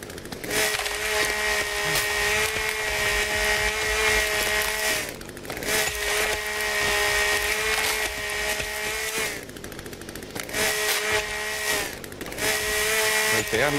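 A chainsaw in The Forest video game cuts trees with a loud, sustained high-pitched engine whine that drops out briefly twice before revving back up, running continuously up close.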